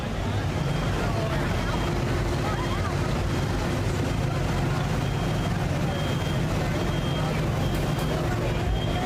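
Pulling tractor engine at the Holmes County Fair tractor pull in Millersburg, Ohio, droning loud and steady for the whole stretch, with a constant heavy rumble and a wash of outdoor noise.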